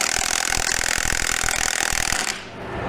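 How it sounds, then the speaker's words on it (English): A Milwaukee 1/2-inch cordless impact driver hammers away at a tight truck wheel nut, a loud continuous rattling burst for about two seconds before it stops and the sound drops away. "So I just got this Milwaukee set, and I bought the impact, the 1/2-inch driver impact."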